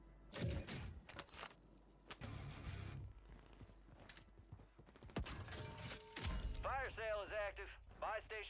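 Footsteps on metal in Call of Duty on Rebirth Island, a series of clanking, clip-clop-like steps scattered through busy game noise and bursts of other effects, with talk heard in parts.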